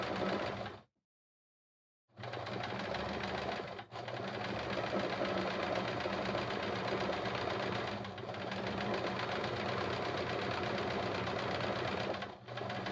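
A sewing machine stitches free-motion quilting in a steady, fast mechanical whir. It runs almost continuously apart from a pause of about a second near the start and a few brief dips.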